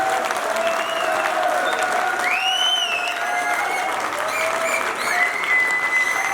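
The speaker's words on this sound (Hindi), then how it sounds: "जोरदार तालियां।" Audience applause at a product launch event in Jaipur, steady dense clapping from a crowd sustained throughout at an even, fairly loud level, with faint cheering tones above it.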